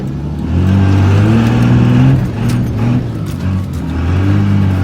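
A high-mileage Cummins 24-valve diesel truck engine, converted from automatic to manual, revs hard and loud while the truck does brodies, its roar rising and falling in sustained surges close by.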